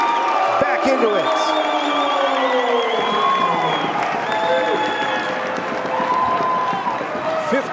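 At a Ripon College men's basketball game against UW Whitewater, a gym crowd roars and applauds after a dunk, with whistles, whoops and sneaker squeaks under a commentator talking throughout.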